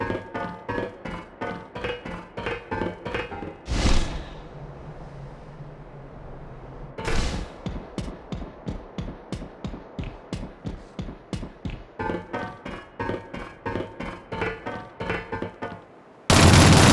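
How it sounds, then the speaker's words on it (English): Rapid bursts of gunfire in the Shadowrun video game as enemy bodies are shot, loud regular volleys with two short pauses and an echoing boom. "To eliminate a body, shoot it until it is destroyed."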